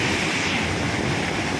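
A river flooded after heavy rain in a village, a loud steady roar of rushing water with no voices.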